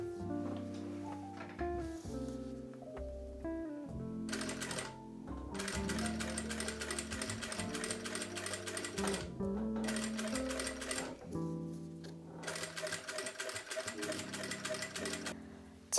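A sewing machine top-stitching stretch fabric for a halter top runs up close in several bursts, each a steady rapid mechanical chatter, broken by short pauses.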